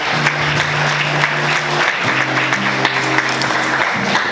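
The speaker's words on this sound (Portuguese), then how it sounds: "Aplauda Jesus muito forte." A church congregation claps loudly and steadily for several seconds, a dense wash of many hands, with sustained low musical tones underneath.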